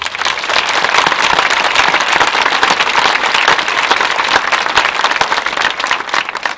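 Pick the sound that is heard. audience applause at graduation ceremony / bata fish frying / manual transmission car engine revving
audience applause at graduation ceremony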